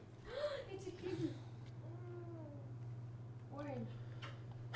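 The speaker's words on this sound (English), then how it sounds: "It's a kitten." A kitten gives a series of thin, plaintive meows, some close together and others spaced apart, faint beneath a steady low hum, with people talking.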